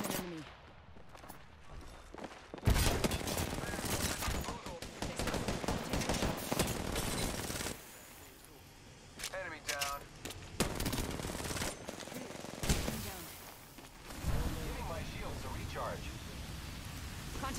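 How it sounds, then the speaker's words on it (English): Rapid automatic gunfire in Apex Legends, bursts of shots crackling across a battle, loud and close with short pauses, while a player talks over the fighting. "Open fire on the enemy."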